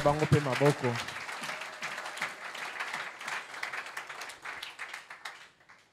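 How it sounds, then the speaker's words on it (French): A church congregation claps and applauds in a hall at a worship service, dense steady clapping that starts just after a voice and fades gradually over several seconds. "Acclamez quand même pour eux aussi."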